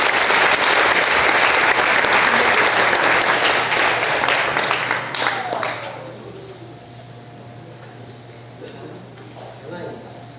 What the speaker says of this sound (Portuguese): Uma salva de palmas para o nosso Senhor Jesus Cristo.